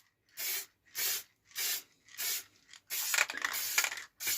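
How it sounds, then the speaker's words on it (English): Sealer is sprayed from a can onto a routed, carved piece of recycled pine with resin inlay: five short, crisp hissing bursts in an even rhythm, then a longer sustained spray, close and clear. "So we spray it all first now, and that way we've sealed, we've protected, and we've given it a nice shine."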